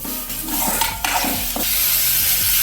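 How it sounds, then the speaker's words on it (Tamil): A spoon scrapes and stirs through thick snail curry in frying masala in a hot pan, with quick clanks against the metal over a low sizzle. "நம்மளோட நத்தக்கறியை போட்டு கிண்ட ஆரம்பிச்சிடணும்"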